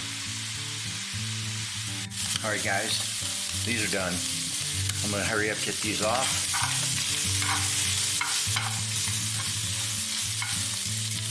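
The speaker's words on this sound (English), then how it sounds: "Ooh, some more sizzling going on. Sizzle, sizzle." Chuck steak sizzles and crackles steadily in a hot pan while a person talks over it and utensils scrape and stir.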